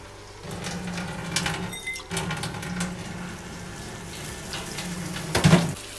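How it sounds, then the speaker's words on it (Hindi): Water pours steadily into a cooking pot for a tomato and chicken biryani preparation, a continuous hissing splash with a brief pause and a louder burst near the end, close and alone. "पानी डालती हूँ।"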